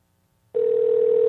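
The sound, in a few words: Skype call ringing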